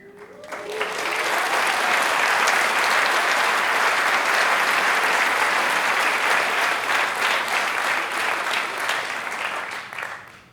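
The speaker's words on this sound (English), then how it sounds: "I want to hear a massive, massive round of applause." A large conference audience at Meet Magento UK 2019 breaks into a loud, sustained round of applause that swells quickly, holds as a dense roar of clapping for several seconds, then tapers off.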